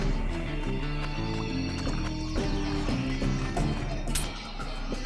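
A horse in the Western video game Six Guns trots with clip-clopping hooves and gives a neigh, layered over a dense, continuous bed of game music and effects for several seconds.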